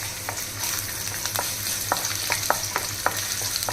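Chillies and ginger frying with roasted peanuts in a pan, a constant loud sizzle with a run of spoon or spatula scrapes and taps against the pan, close up, no voices.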